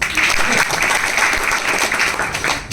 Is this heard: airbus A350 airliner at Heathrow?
no